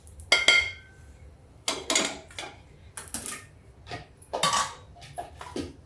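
Tongs scrape and clink against a pan while lifting out roasted cumin, giving about seven sharp metallic clatters in irregular bursts with quiet gaps between.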